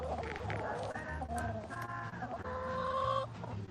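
Backyard hens in the country cluck steadily at close range, with several overlapping calls and short rising notes throughout, loud and continuous with no talk over them.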